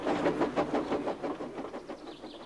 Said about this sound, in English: All he could do was watch the trains rushing through the other tunnel.